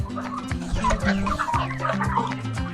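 Chickens cluck loudly in a hot poultry house during heat stress, a dense chorus of overlapping calls that runs steadily with no break.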